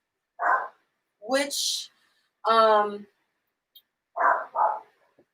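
A dog barks in a few short, sharp bursts, two quick barks near the end, with a person's brief speech between them in an otherwise quiet room.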